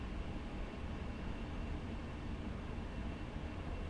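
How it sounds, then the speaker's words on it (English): A train running in Train Simulator 2017, speed-restricted near St Neots: a faint, steady broadband rumble and rushing noise that stays constant throughout, with no voices. "Well, see, Jakey Trains, I've got to slow the train down at St Neots because there's a temporary speed restriction"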